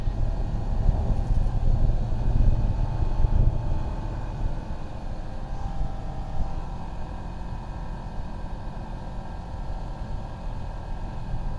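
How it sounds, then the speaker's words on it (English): A Zenith STOL CH 750 light aircraft with a 100-hp Rotax 912iS engine in flight on a choppy day, giving a steady, loud cabin drone of engine and airflow that runs alone without a break. "It's a nice, stable, smooth engine though."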